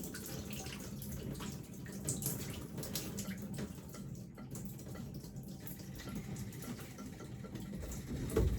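Water dripping and trickling as wet curly hair is gently wrung out, a continuous close splashy patter at steady level with a slightly louder burst at the end.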